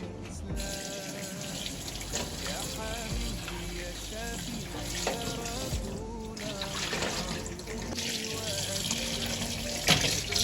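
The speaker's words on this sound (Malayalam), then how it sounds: "അപ്പോൾ ഫസ്റ്റ് നമുക്ക് ഈ ചിക്കൻ കഴുകിയെടുക്കാം." Raw chicken breast washed under a running kitchen tap, a steady splashing and trickling stream of water into a sink that continues throughout, with dish and handling clatter mixed in.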